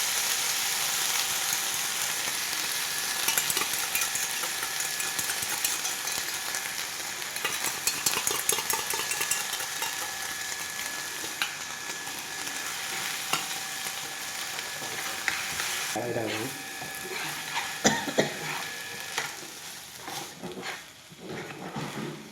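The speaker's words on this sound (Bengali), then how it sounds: "ভালো করে নাড়িয়ে নিচ্ছে।" Soya chilli with sauce sizzles steadily and loudly in a frying pan as it is stirred, with a dense, continuous hiss broken by intermittent scraping and clinking strokes.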